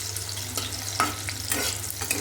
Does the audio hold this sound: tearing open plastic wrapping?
no